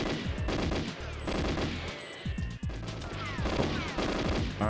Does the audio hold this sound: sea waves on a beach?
no